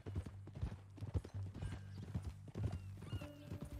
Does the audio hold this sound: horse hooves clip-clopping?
yes